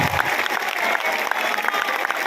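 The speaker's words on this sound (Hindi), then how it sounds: "जोर से बजाइए ताली" A crowd at a political rally in Bihar claps loudly in a steady, dense burst of many hands, continuous and close throughout the short stretch.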